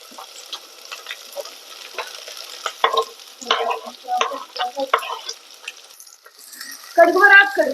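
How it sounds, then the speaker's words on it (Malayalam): Sliced onions with green chilli and curry leaves sizzle in hot oil for a crab curry, with intermittent scraping and stirring clatter close by. "ചൂടായ എണ്ണയിലേക്ക് നമുക്ക് സവോളയൊക്കെ ഇട്ട് കൊടുക്കാം."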